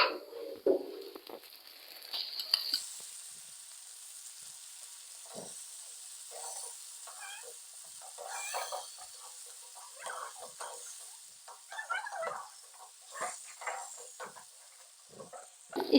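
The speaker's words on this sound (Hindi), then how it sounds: "3 से 4 मिनट हम प्याज को भी अच्छे से भून लेंगे" Onions fry in a pan for a pea and egg curry, giving faint, intermittent sizzling crackles and soft hiss over a quiet background, with no voices.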